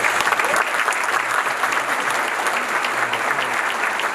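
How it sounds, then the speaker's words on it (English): A banquet crowd at a hundredth annual membership meeting applauds the event sponsors with loud, dense, continuous clapping that fills the room evenly, with no voices on top. "A round of applause for those sponsors."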